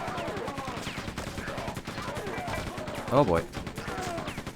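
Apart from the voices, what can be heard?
gunfire from weapons in the video game Quake II Remastered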